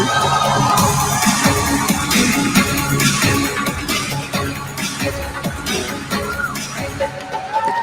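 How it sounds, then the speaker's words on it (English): A large crowd at the Miss World pageant cheers and whoops, a loud dense roar with scattered shouts and yells that holds steady throughout and eases slightly near the end. "let's cheer for Lebanon!"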